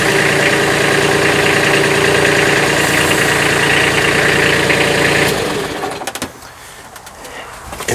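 A Kubota B26 tractor loader backhoe engine runs loud and close at a steady, throbbing pitch while the loader lifts at full capacity, then it drops back abruptly to a quieter idle with scattered clunks near the end.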